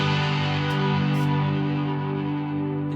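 A sustained electric guitar chord rings for three seconds, full and steady, with a slight pitch waver from bending the neck as the part enters full house in a song, with no talking.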